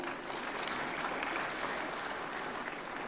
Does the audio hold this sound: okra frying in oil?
no